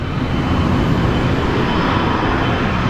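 Embraer and Gulfstream jets at Phoenix Sky Harbor airport, a steady loud broadband roar of jet engines that holds evenly for a few seconds with no voices.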